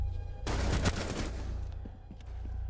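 Gunfire in Rainbow Six Siege, a dense burst of rapid automatic shots lasting about a second, followed by a few fainter scattered pops.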